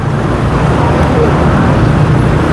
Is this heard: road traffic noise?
yes